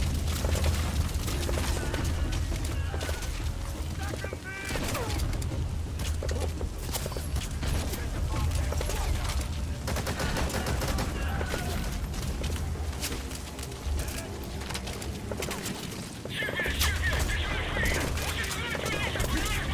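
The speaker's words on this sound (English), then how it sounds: "Mortar fire." Mortar fire and explosions in Metal Gear Solid V, a modded game, with repeated booming blasts and crackling gunfire over a dense, continuous mix of battle noise.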